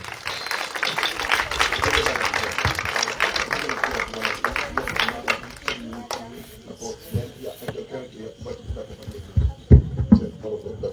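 A church congregation at an evangelistic gathering in the Yacouba quarter applauds and cheers for Jesus, a dense, loud wash of clapping and shouting that fades toward the end, leaving scattered claps and voices.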